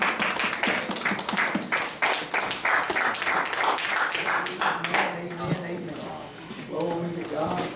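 A church congregation claps hands in praise during a worship service, a run of rhythmic, fairly loud claps through the first part that gives way to voices and singing-like talk toward the end.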